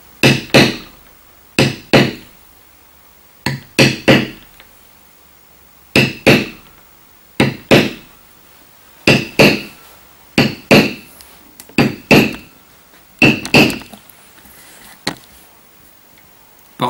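A metal matting tool is struck by a mallet into leather for embossing, giving sharp close taps in irregular pairs and clusters with short pauses, with no talking.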